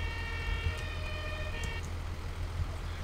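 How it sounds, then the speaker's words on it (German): A truck in the Farming Simulator 2013 game sounds its emergency siren, a steady electronic wail riding over a low engine hum, fairly quiet and alone. "und Martinshorn"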